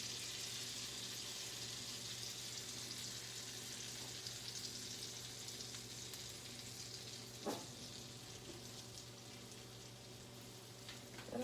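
Plenty of butter sizzles in a skillet, a continuous, even frying hiss with a faint low hum beneath and a single soft clack near the end.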